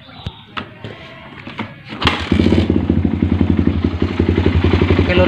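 A Suzuki Satria FU motorcycle starts after some clatter and handling noises, then idles close up with a loud, steady, rapid pulsing beat.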